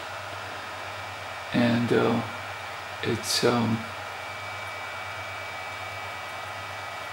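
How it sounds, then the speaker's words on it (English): The cooling fan of a Powerex MH-C980 battery charger-analyzer gives a steady, soft airy whir throughout, with someone briefly talking over it twice. "So I can see that the fan is kicking up."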